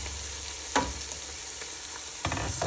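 Bottle gourd frying in hot oil in a pan, a steady soft sizzle with a few louder bursts as pieces are stirred or dropped in, close and fairly quiet with no talking.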